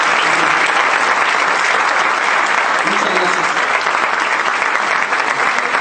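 Warm audience applause for a conference panelist, a dense, steady wash of clapping from a crowd that continues throughout, with a brief thank-you voiced over it.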